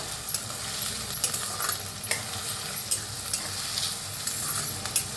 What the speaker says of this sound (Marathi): आता कांदा चांगला तेलात भाजून घेऊया